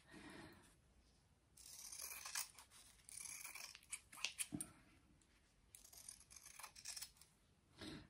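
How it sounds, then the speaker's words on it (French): Sewing scissors snip through loose threads on a layered fabric tissue pouch, a close, quiet series of crisp clipping and crunching snips in irregular bursts with short pauses between. "je vais couper tous mes fils qui dépassent"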